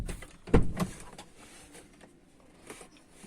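A driver's door on a GM Cruze is opened with a short, close mechanical clunk and latch click, then quiet cabin noise with a few faint clicks afterward.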